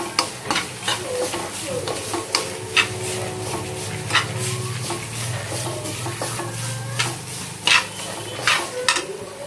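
Grated coconut roasting in a pan for potato kurma, with continuous sizzling and frying under repeated scraping stirs of a spoon against the pan, close up; a dog barks faintly at times.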